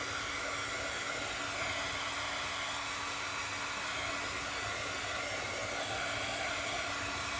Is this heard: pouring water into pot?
no